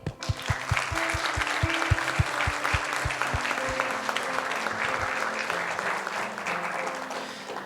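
A church congregation applauds together, dense steady clapping sustained for several seconds at a strong level, with a low rhythmic thump beating beneath it early on before it fades out.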